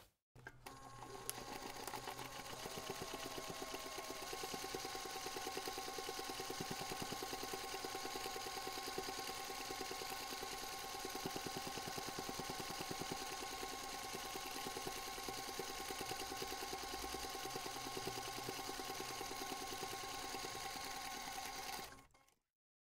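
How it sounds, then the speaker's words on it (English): A sewing machine runs steadily, top stitching around a backpack flap in one long unbroken burst of fast, even needle chatter, close and loud, stopping abruptly at the end. "I can take this to the machine and top stitch around the flap"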